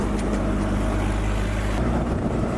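A Jeep Willys engine running steadily in fifth gear at around 33 km/h on 35-inch tyres, a continuous low drone from inside the moving vehicle with a brief shift in tone partway through.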